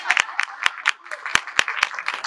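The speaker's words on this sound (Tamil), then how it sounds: "அதனால தயவு செஞ்சு நீங்களே ஒரு தடவை கைத்தட்டிருங்க." Scattered hand claps ring out at a stage speech event held by the Tamil Nadu Telugu People Association. They come as sharp, uneven individual slaps rather than full applause, with a voice heard between them.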